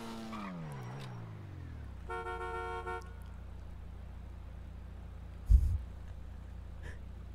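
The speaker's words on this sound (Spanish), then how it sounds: "He tocado el claxon" Car horn honking once in a steady sustained blast after a revving engine slides down in pitch, followed by low engine rumble and a sudden thump.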